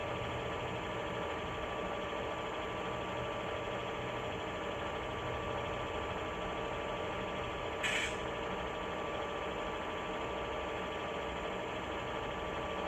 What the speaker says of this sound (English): Don't miss the baby compressor that switches on and off at regular intervals to maintain brake pressure while the locomotive is idling under the APU